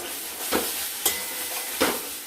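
Fried potatoes are stirred in a hot pan for a fish curry with bori, giving a constant sizzle. A spoon scrapes the pan in a steady rhythm about every half second, close and alone.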